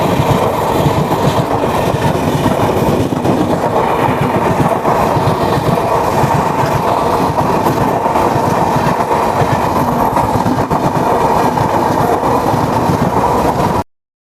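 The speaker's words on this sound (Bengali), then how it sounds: "আমাদের ট্রেনের সঙ্গে এখন ক্রসিং হচ্ছে আলিপুরদুয়ার থেকে দিল্লিগামী সিটি মহানন্দা এক্সপ্রেস।" An oncoming Mahananda Express from Alipurduar to Delhi crosses the moving Kanchankanya Express, a loud steady rumble of wheels and carriages with rhythmic clickety-clack filling the whole span without pause.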